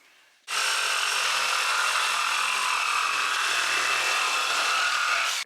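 A power saw rips steadily through plywood for about five seconds, a loud continuous whining buzz that starts abruptly and cuts off at the end.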